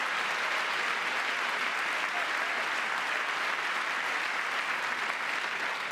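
A crowd applauds steadily throughout a Trump speech being played back, with a dense, even roar of clapping and no one talking over it.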